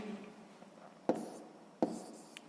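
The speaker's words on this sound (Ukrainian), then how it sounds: "записуємо відповідь" A pen writes out the answer to a sixth-grade math equation, giving soft scratching strokes with two short, sharper taps on the paper. It is quiet and close, with no talking.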